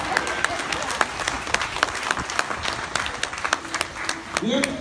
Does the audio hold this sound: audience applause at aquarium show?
yes